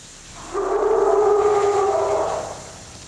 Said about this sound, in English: I'm going to make a copy of the Cackling Bigfoot video and pitch it down